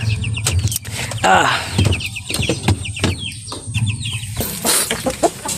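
Parent hens of a brood of four chicks cluck and squawk in a backyard breeding pen, with repeated short calls and chirps at close range over a steady low background hum.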